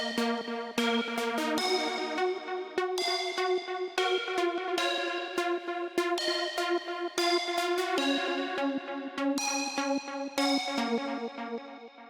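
A reverb-soaked pluck sample melody layered with a Serum synth pluck, building a dense, steady trance pattern of rapid bright plucked notes over a sustained harmonic bed, loud and continuous throughout with no voices.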